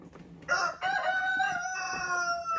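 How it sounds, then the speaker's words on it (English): A rooster crows nearby in a loud, drawn-out cock-a-doodle-doo, a single call rising sharply and holding for about two seconds, heard alone without talk. "Thank you for the second witness, Rooster."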